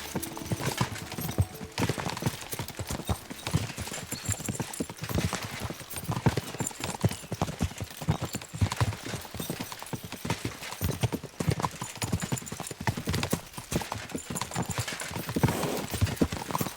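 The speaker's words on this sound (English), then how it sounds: "We should spur the horses on." Steady, rapid hoofbeats of galloping horses fill the scene in Kingdom Come: Deliverance II, a busy clattering rhythm with occasional whinnies and faint voices underneath.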